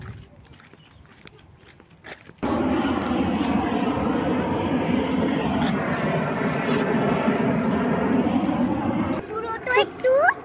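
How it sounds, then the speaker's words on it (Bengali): A fighter jet passes overhead, its loud, steady roar rising suddenly and holding for several seconds before cutting away. Voices can be heard beneath it. "Fighter jet."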